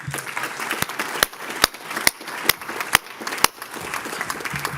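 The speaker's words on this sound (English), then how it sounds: "I just want to give Jessica another round of applause" Scattered claps from an audience at a New Orleans association business meeting and awards event, a handful of sharp, evenly spaced hand claps over a murmuring room background.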